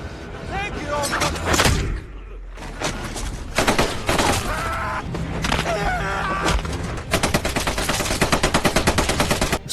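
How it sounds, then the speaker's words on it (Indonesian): Film gunfire bursts, including rapid automatic volleys and single loud shots, close and intense, with shouting voices in between. "Suara tembakan itu terdengar hingga memancing Axel CS untuk putar balik"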